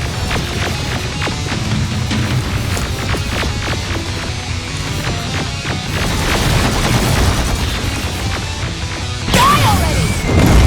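Chaotic firefight in Terminator: Resistance with a grenade blast and heavy crashing booms filling the whole stretch, a fresh loud burst of debris near the end.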